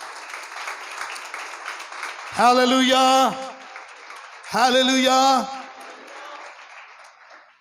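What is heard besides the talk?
congregation applauding in church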